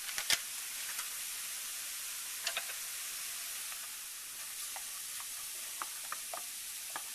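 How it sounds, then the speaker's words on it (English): Half a stick of butter melting in a pan for shrimp corn chowder, a steady close sizzling hiss with scattered small pops and crackles throughout. "put my half a stick of butter in my pan and melt it"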